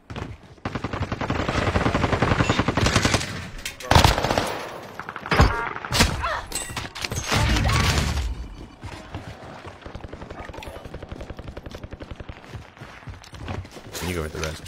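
Video game gunfire crackles in rapid automatic bursts and scattered single shots, loud and close, mixed with players talking.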